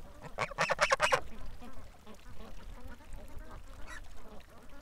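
Wild ducks in a marsh give a quick burst of loud, rapid quacks near the start, then fainter scattered calls and a soft honk over low background rustle and murmur.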